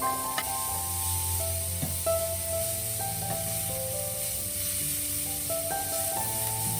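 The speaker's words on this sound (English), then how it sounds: "Add carrots and cabbage and saute for about 2 minutes or until slightly softened" Beans, carrots and cabbage sautéing in a hot pan, a continuous moderate sizzle and hiss with faint scraping and stirring, heard close with no talking over it.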